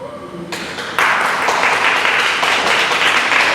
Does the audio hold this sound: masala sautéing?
no